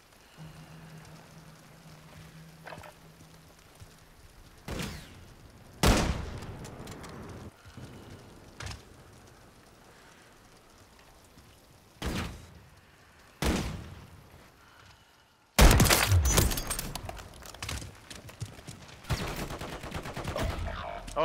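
Assault rifle fire in Call of Duty: Modern Warfare III, separate short bursts and sharp volleys spaced apart over a low ambient hiss, ending in a longer, louder stretch of rapid shots.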